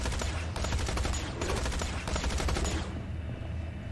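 Rapid, steady gunfire from the video game Tales from the Borderlands sounds as a dense burst of shots for about three seconds, then fades into quieter background noise.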